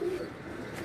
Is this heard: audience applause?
no